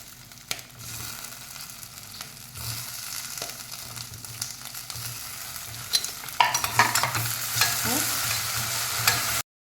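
Green chillies frying in hot oil, with a continuous close crackling sizzle and scraping stirs that grow louder and busier toward the end before stopping abruptly.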